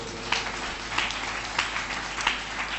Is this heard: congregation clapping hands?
yes